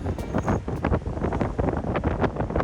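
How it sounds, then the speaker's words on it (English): Strong cold wind gusts hard across the microphone in Patagonia near Ushuaia, a loud, continuous broadband roar with rapid buffeting bursts and no voices. "It just got really windy and really cold all of a sudden."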